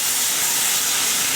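Dark soy sauce sizzles and evaporates in a hot pan, a dense, continuous steamy hiss heard close up and alone.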